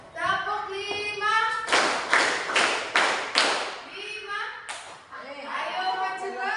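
A classroom of junior high pupils performs a rhythmic clapping game, roughly five loud, evenly spaced bursts of group hand claps in the middle, with talk before and after.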